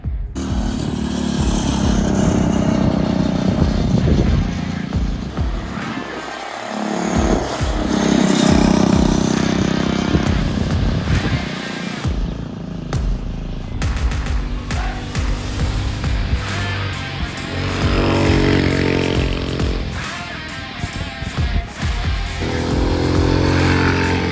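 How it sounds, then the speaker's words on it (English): A Motovox minibike with a Predator 212 engine fitted with a stage 1 kit is ridden at speed around a block. The loud, buzzing small-engine drone rises and falls with throttle changes and wind rush, continuous and close throughout. "we're gonna go ripping around the block. We're gonna get some top speed runs and just some riding clips."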